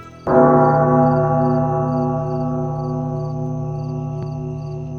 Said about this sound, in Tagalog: Ang kampana ay nag-echo sa buong paligid.